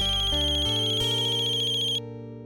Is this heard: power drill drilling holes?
no